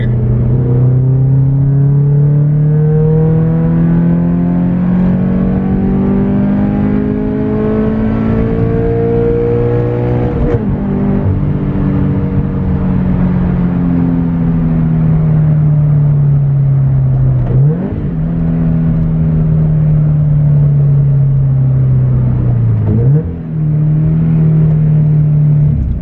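Toyota 86 with a Speed Factory catted header revving through third gear toward redline, a loud, close engine note climbing steadily in pitch with brief dips between pulls, alone without talk.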